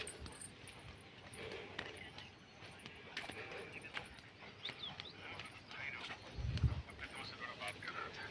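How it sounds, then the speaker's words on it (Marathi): A dog on a rural footpath between farm fields is heard faintly amid outdoor ambience, with a brief low burst near the end, while someone talks through most of it. "भिला बरं का, भिला कुत्रा."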